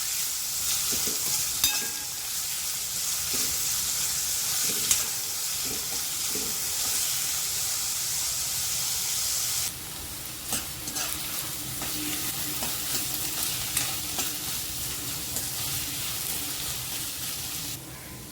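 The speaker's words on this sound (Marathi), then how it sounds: "कांदा टाकून घ्यायचा कांदा छान आपल्याला गुलाबी रंगावर येईपर्यंत परतून घ्यायचा आहे" Onion fries in a little hot oil in a kadhai, a constant loud sizzle with scattered taps and stirring scrapes; midway the hiss drops a notch and carries on more quietly.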